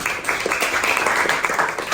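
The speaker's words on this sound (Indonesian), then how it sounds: "Oke, beri tepuk tangan buat Rum." A group claps in a steady, dense burst of applause that carries through the whole moment without letting up.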